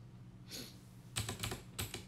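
Keyboard typing that sounds like a typewriter, heard as a few quiet key clicks followed by two short rapid clusters of sharp, close taps in a quiet room.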